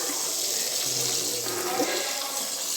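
Food being rinsed under a running kitchen tap, a steady close splash of water into a sink with no talk over it.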